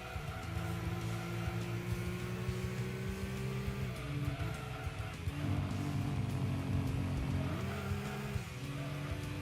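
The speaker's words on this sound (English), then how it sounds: "I don't like how this car sounds" Racing car engine from Gran Turismo 2 A-Spec, a steady loud drone that holds its pitch, drops briefly at gear changes and then climbs again.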